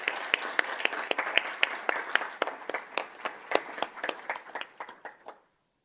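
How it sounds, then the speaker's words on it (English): A round of applause from the audience at a Peoria Unified school governing board meeting: a modest group clapping in loose, distinct claps that thin out and stop abruptly after about five seconds. "Let's give one more round of applause for Mr."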